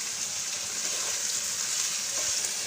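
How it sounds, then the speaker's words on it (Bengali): Tomato and half-cooked dal sautéing in a pan for pulao khichuri produce a constant bright sizzle, close and even, with faint stirring touches and no speech. "এটা আর একটু কষতে থাকুক।"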